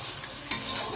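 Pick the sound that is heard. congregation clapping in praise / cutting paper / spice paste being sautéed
spice paste being sautéed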